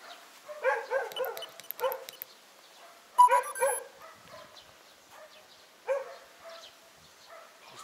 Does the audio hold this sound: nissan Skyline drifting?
no